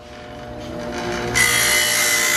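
A power tool hums and gradually rises in pitch, then abruptly surges into a loud, bright, high whine as it reaches full speed.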